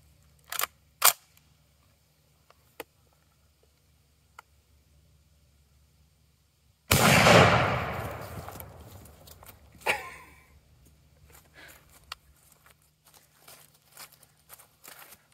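A 270 Short Mag rifle fires one loud, close shot that booms and rings off, followed by a fainter echoing crack, with a few sharp clicks before.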